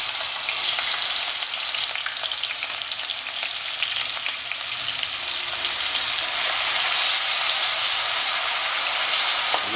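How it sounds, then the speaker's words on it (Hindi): Grated onions, about a kilogram, frying in hot oil for a royal Baghelkhand chicken dish; a dense, steady sizzle and crackle fills the whole stretch, growing a little louder toward the end, with no voices. "हमारे प्याज जो हमने किस के रखे थे इन्हें आहिस्ता से डालेंगे।"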